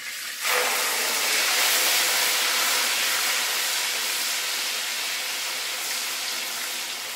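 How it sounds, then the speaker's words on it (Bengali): Onion paste frying in hot oil in a pan, a loud sudden sizzle that bursts in and holds as a steady bright hiss with no talking. "পেঁয়াজ বাটাটাকে আমি 1 মিনিট মতো ভেজে নেব।"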